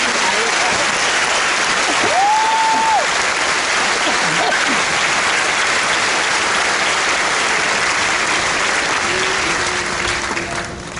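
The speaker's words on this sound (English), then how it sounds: "please join us in a round of applause for these outstanding awardees" Audience applause for awardees at a basic training graduation ceremony for the 3rd Battalion, 47th Infantry Regiment, a loud sustained wash of many hands clapping that runs the full length, with a brief voice over it near the start.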